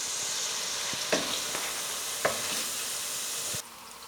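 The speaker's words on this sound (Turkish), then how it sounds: "Böyle kavuruyoruz" Purslane sautéing in a pan, a continuous close hiss of frying with a few spatula knocks and scrapes, the sizzle dropping abruptly near the end.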